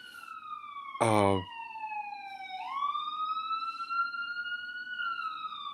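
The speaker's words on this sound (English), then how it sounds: "Wait for the siren to end anyway" A wailing siren rises and falls slowly, moderately near, with a brief burst of speech near the start and faint background noise.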